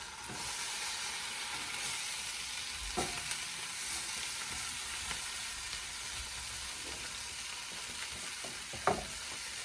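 Food sizzles on a hot grill, a steady broad hiss with a few soft clicks and taps of handling, fairly quiet and continuous with no talk.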